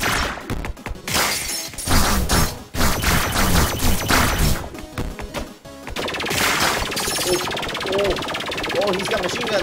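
Rapid machine gun fire and crashing impacts from the indie action game 20XX, loud and dense throughout with bursts and clatter, while a player exclaims over the gameplay.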